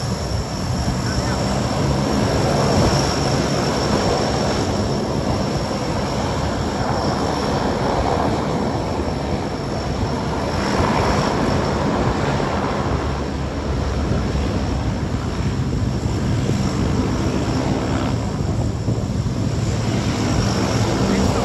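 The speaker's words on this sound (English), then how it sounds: "This C-130 doesn't need any pushback tugs." A Lockheed C-130 turboprop taxis or backs up on its own engines without a pushback tug, giving a loud, continuous propeller drone and roar that stays steady and close, with no break in the noise.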